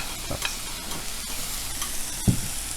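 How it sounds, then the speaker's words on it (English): Mushrooms sauté in a hot pan with a steady, close sizzle, broken by a few scrapes and light knocks as they are moved about, and no one speaking. "get a nice little color going on the mushroom"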